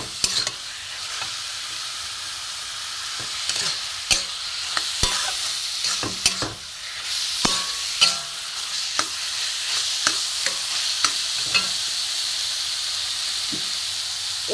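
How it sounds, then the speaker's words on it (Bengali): Carrots frying in hot ghee in a pan, a steady close sizzle and hiss with frequent sharp stirring clicks and scrapes of a spoon against the pan throughout. "ঘিয়ের মধ্যে ভালো করে গাজরটা আমি ভেজে নেব।"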